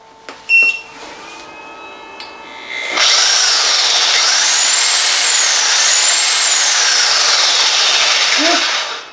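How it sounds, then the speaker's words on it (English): A DeWalt reciprocating saw runs with no blade fitted, starting after a few short clicks and holding a loud, steady high-pitched buzzing whir for about six seconds before cutting off. "let's see if it can do a sawzall with no blade in it."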